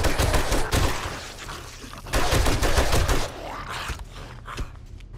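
Gunfire aimed at zombies in the survival game 7 Days to Die, clusters of close, loud shots in two main bursts with scattered single shots trailing off amid grunts and groans.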